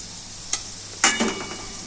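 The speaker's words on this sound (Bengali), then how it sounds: "আলুটা ভাজা মোটামুটি হয়েই এসছে একটু লাল লালও হয়ে এসছে" Potatoes fry in a pan, getting red and crisp, with a steady broadband sizzle and a couple of sharp stirring scrapes partway through, close and moderately loud with no talk.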